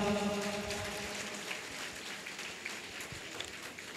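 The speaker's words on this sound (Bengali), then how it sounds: "সবাই হাততালি দাও" Applause from a college function audience welcoming a new principal, a steady crowd clapping that starts strongest and gradually fades over a few seconds.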